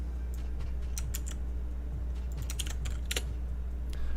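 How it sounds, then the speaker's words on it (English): Keys clicking and clacking on a new computer keyboard, scattered taps close to the mic in uneven bursts over a steady low hum. "Click clacking on my new keyboard."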